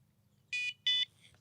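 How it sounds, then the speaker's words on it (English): Carp fishing bite alarm at a pond giving two short, sharp electronic beeps in quick succession, close and clear over quiet background hum. "if I beep one of the alarms"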